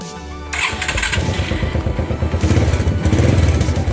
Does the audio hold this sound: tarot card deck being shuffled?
no